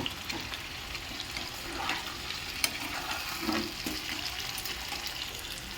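Chicken pieces with potato, ginger and chopped tomato fry in a pan with a continuous moderate sizzle, steady and close, with occasional stirring scrapes and soft bumps.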